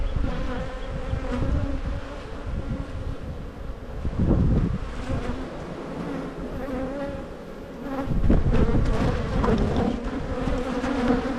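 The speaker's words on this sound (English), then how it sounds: "The angriest bees in the world." Angry honey bees swarm around an opened hive in a dense, loud, continuous buzz that surges and swells in waves, very close by.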